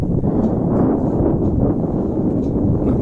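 Strong wind buffets the microphone atop a large rocky hill at a Sivan temple in Venkunram, a loud, continuous roaring rumble with no let-up and no voices.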